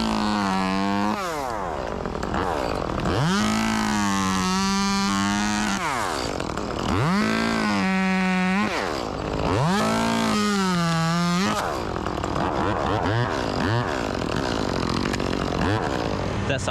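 A chainsaw running during tree work, its engine revving up and down in repeated surging bursts with strong whining harmonics, then settling to a rougher idle near the end.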